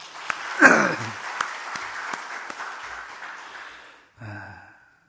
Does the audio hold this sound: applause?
yes